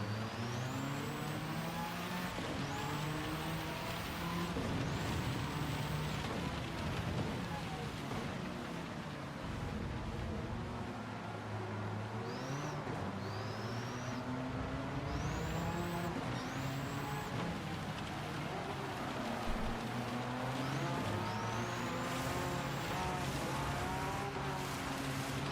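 Race cars in a racing video game roar continuously with engines rising and falling through gear changes, several rising whines overlapping as cars jostle for position, steady and loud throughout.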